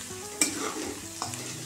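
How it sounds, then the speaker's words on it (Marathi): Chillies and turmeric stir-fried in hot oil, a soft close sizzle with a couple of quick spatula scrapes against the pan. "हळद हलकीशी तेलामध्ये"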